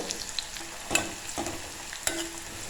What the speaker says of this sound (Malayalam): ബ്രൗൺ കളർ ആവുന്നവരെ വറുത്തെടുക്കാം. കളർ ചേഞ്ച് ആകുമ്പോൾ കൈവിടാതെ ഇളക്കി കൊടുത്താൽ മതിയാകും